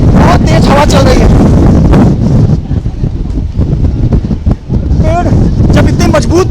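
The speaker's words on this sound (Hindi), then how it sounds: "द्वारका में बहुत तेज हवा चल रही है।" Strong cyclone wind on the Dwarka coast buffets the microphone with loud, continuous roaring gusts, and waves may be mixed in. Someone talks over the noise throughout.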